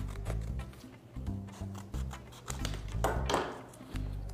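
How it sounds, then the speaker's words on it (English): Scissors cut through cardboard to make spacers between bicycle brake pads while a bike is packed into a suitcase: scratchy, rasping strokes repeat over a steady low hum, with one louder, longer cut near the end. "you can cut out some cardboard"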